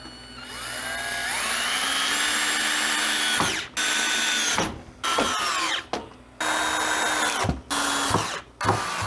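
A power drill bores holes during a drain valve replacement on a freeze dryer, whining loudly up close in several bursts that rise and shift in pitch, separated by short silent pauses.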